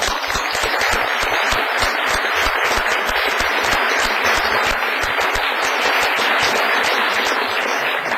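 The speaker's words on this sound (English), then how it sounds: "give the organization committee and the coordinator a very full thank you with a good hand clapping" Sustained applause from a conference audience thanking the organizing committee and coordinator, dense steady hand clapping filling the room for about eight seconds with no voices over it.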